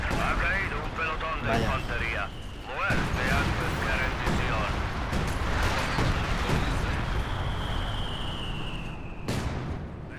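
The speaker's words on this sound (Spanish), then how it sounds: "Los cañones de la Unión Soviética entonan un canto de victoria" Soviet artillery cannons firing in the World War II strategy game Company of Heroes 2, a dense run of booming shots and battle noise continuing steadily throughout, with a voice talking over the gunfire.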